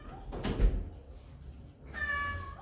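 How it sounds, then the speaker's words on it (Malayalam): A pet cat named Karampoos gives a short meow at close range in a home, followed by a brief muffled thump and then a second, longer meow. "ഒരു പൂച്ചയുണ്ട്, കറമ്പൂസ്."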